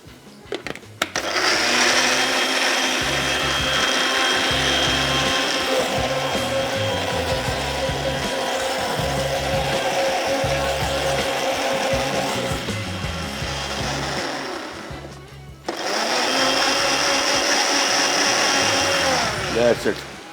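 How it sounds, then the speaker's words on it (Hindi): A blender grinds a chutney of coriander, green chili and garlic, a loud close whirring motor with rhythmic chopping pulses, pausing briefly before starting again for a second burst. "इसके बाद इसको करते हैं ब्लेंड।"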